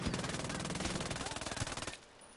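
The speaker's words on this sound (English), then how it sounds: "it's a fucking minigun, man" Rapid, sustained minigun fire in a video game rattles in a dense, evenly spaced burst for about two seconds before stopping abruptly.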